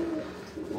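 Pigeons released by their keeper coo softly nearby in a single brief, low murmuring call.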